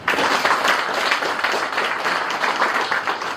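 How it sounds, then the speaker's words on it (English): Audience clapping at an institute launch event in Kenya, a loud close patter of hands with uneven rhythmic surges, heard on its own without talk. "Can we clap for her?"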